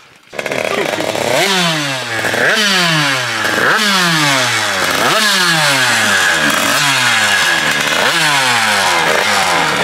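A motorcycle engine, recently crashed on a motorway, sputters and revs repeatedly as it starts reluctantly, loud and close, each rising whine dropping back before climbing again in a rough, uneven rhythm.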